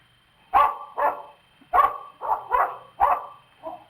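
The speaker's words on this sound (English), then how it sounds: "That was a dog bark." A dog-bark sound effect from a burglar-scaring machine: seven sharp, close barks in a loose irregular sequence, each short and punchy with brief pauses between, heard alone without speech.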